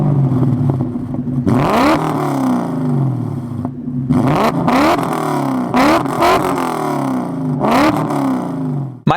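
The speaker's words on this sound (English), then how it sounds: "The car also has a Race IQ tune, and the mufflers have been deleted, but it still retains the factory resonator, and I think it sounds pretty good." A BMW M5 E39 V8 with a Race IQ tune and deleted mufflers that keeps its factory resonator, revved repeatedly from idle in loud, close blips that rise and fall over a steady rumble.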